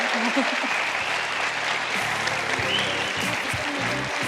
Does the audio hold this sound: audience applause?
yes